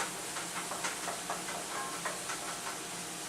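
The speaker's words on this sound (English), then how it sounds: "you only need a little olive oil because the onions sweat anyway. And we're just going to brown them" Onions browning in a little olive oil in a pan give a steady, soft sizzling hiss with faint crackles throughout, close and unbroken.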